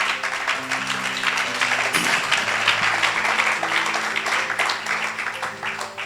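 A church congregation applauds loudly and steadily in a reverberant hall, sustained clapping from many people across the whole stretch with a faint hum of music beneath.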